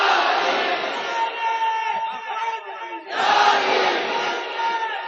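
A large crowd at a religious gathering loudly chants the slogan Naara-e-Haidari in two strong, sustained surges of massed voices with a brief dip between them.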